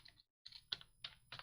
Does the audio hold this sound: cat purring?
no